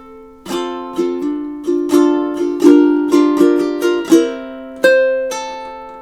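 Measures 9 and 10 of a song strummed on a ukulele, bright close chords struck in a lilting rhythm, a quick run of strokes followed by two final ringing chords.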